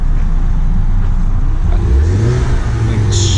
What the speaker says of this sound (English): I love the sound of the turbo, like the I guess hey, when it makes that noise